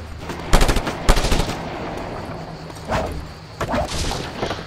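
A mounted gun firing in Just Cause 2, two loud clusters of rapid shots early on, followed by scattered thuds and softer impacts, all up close without any speech.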